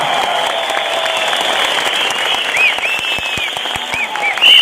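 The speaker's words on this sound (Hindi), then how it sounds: "एक जोरदार ताली अपने आप के लिए जोरदार" A large crowd at a leadership training session breaks into loud, sustained applause, dense clapping throughout with a few faint tones sounding over it.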